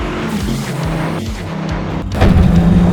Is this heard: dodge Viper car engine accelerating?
yes